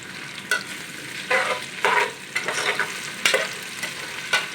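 Onion and green chili paste fry in a pan. Several scraping stir strokes rise over a steady soft sizzle, close by and with no voice.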